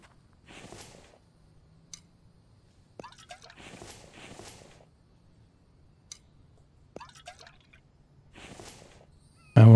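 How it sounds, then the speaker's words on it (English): Water is collected in the survival video game The Infected, heard as repeated soft splashing and dripping bursts with short sharp clicks between them, evenly spaced in a quiet setting. "let's grab the last of the water here"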